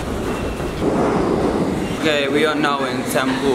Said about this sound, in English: That felt like a long-ass train journey